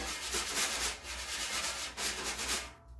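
Soft, steady swishing strokes of drum brushes sweep across a coated drum head in a rhythmic back-and-forth, close and fairly quiet.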